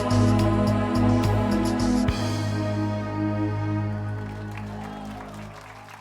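Audience applause in a TV studio, mixed with sustained music, loud at first, then the clapping thins and fades gradually toward the end.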